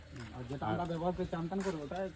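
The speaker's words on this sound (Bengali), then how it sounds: "এই যে কলসিগুলো রাখা এগুলো কিন্তু পায়রার ঘর" Pigeons coo in soft repeated rolling calls from clay pot nest houses on a village rooftop in Purulia, close and fairly quiet.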